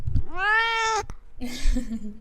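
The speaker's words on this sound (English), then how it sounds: "my cat has woken up and decided that he wants attention" A cat wanting attention gives a loud, close meow that swells then fades, followed by a sharp click and a second, rougher meow.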